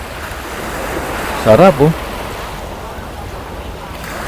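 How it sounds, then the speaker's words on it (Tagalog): Ocean waves wash onto a Boracay beach, a steady broad rush of surf with wind noise, while a person speaks briefly over it near the middle. "Kasi binabasa tayo ng alon eh. Nahabol tayo ng alon."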